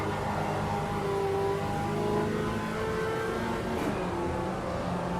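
Racing-sim engine of a Chevy Chevette driven hard at Interlagos in Automobilista 2, a steady loud drone with layered harmonic tones rising and falling as it accelerates, running continuously without talk.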